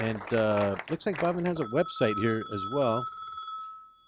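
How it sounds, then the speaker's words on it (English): A phone rings with steady high tones during a radio show, sounding out under a man's speech and then continuing briefly on its own. "Please silence your cell phone"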